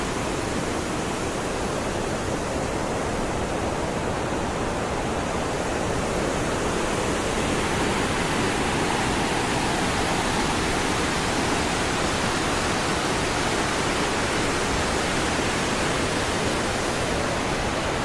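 A waterfall at Soochipara roars below a glass bridge in the rain, a loud, unbroken broadband rush that fills the whole stretch with no voices.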